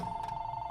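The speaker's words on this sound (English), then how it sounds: "why must the phone ring every time?" A telephone rings in the video game The Beginner's Guide, a steady electronic bell tone held unbroken and fairly quiet for under a second, with a faint low hum beneath.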